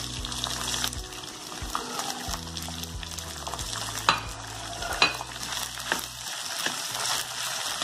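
Mushrooms and vegetables for pulao sauté in a pan, a continuous sizzle broken by scraping stirs and a few sharp clinks of the spatula against the metal.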